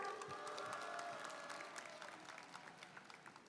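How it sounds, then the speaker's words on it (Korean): A crowd at an outdoor May Day labor rally in Incheon claps and cheers. The sound is dense at first, then thins into scattered claps as it fades. "우리 모든 분들께 뜨거운 박수와 함성 부탁드리겠습니다."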